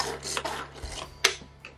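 A pull-cord manual vegetable chopper working through onion: quick, uneven scraping and rasping strokes with a sharp clack partway through, close and fairly quiet over a low steady hum.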